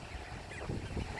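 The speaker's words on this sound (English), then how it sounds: "Love these ducks." Ducks on a residential lake give faint honking, goose-like calls over a breezy outdoor background, with a couple of short call bursts toward the end.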